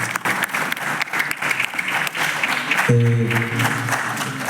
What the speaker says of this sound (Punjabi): ਇਹ ਜ਼ੋਰਦਾਰ ਤਾੜੀਆਂ ਇਸ ਗੱਲ ਤੇ ਬਣਦੀਆਂ ਹੈਗੀਆਂ